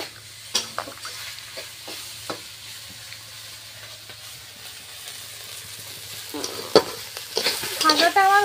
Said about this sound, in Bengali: ভাজাটা আমার হয়ে গিয়েছে, আর তুলে নেব।